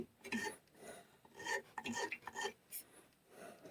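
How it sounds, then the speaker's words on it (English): Quiet, short rasping strokes of a small file smoothing the burred edges of an MC4 solar panel connector, in an irregular rhythm heard up close. "we file the edges smooth"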